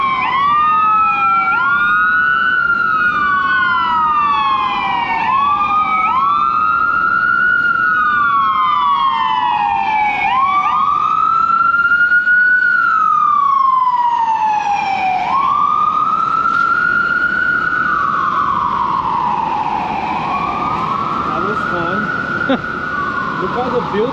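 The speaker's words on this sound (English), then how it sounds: "God help anyone who is ill and needs that ambulance right now" An ambulance siren wails through city streets among buildings, a loud, rising-and-falling electronic tone repeating steadily in long sweeps, close and dominant throughout.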